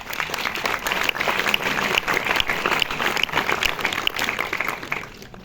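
A cinema audience at the Majestic claps for a speaker introducing a film screening, dense and loud applause that runs steadily for about five seconds before fading at the end.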